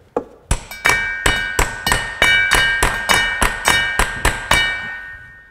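Hammer blows drive a socket fully onto a bolt head on a BMW E46 rear trailing arm during a bushing job, about a dozen sharp, evenly spaced metallic strikes with ringing overtones, close and loud with no talk.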